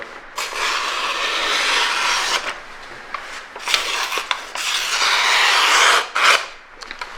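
A handmade knife edge is drawn against a sharpening surface in a run of long, close rasping strokes, each a steady gritty scrape broken by brief pauses and repeated about half a dozen times.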